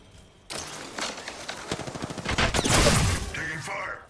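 Gunfire in the battle royale shooter Apex Legends comes as dense, rapid bursts of automatic shots through the middle of the clip, loud and close, over steady in-game ambience and effects.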